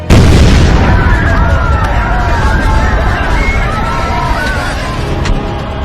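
A bomb blast in a Telugu short film bursts in loudly at the start and leaves a long, rumbling roar with crowd commotion and shouting mixed underneath.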